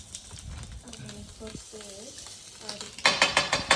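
Food roasts in a pan on a home stove, with faint sizzling and stirring scrapes under conversation, then louder rhythmic stirring clatters near the end.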